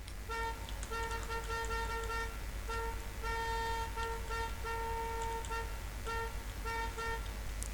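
Modified car horn in the video game GTA V, a tuned musical horn playing a series of bright tonal toots in a rhythmic pattern over low engine rumble, with short pauses between phrases.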